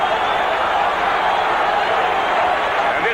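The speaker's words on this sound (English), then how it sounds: "And this crowd really getting pumped up now." A packed football stadium crowd at Orchard Park, New York, roars during a tight fourth quarter of a Bills–Steelers game, a loud, unbroken wall of noise that swells without any distinct claps or breaks.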